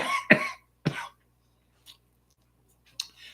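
Two sharp, close coughs in quick succession, followed by quiet pauses and a couple of faint throat sounds.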